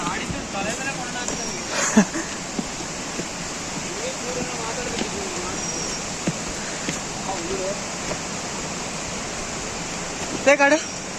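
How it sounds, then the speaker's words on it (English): A steady, broad rush of the Vibuthi Falls waterfall carries from a distance as a constant wash of noise, with people talking intermittently over it. "Now we are able to hear the sound of the waterfall from over there."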